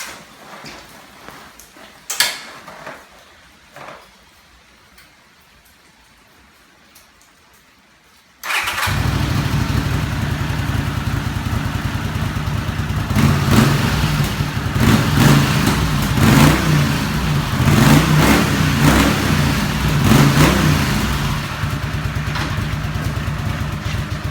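A Honda CX500 cafe racer motorcycle starts up abruptly after a few faint clicks and knocks, then runs steadily at a loud, rumbling idle with slight throttle swells, close to the microphone.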